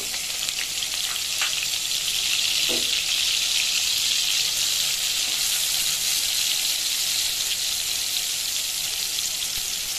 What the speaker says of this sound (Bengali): এখন হচ্ছে পেঁয়াজ কুচিগুলো দিয়ে নেড়ে চেড়ে নিব।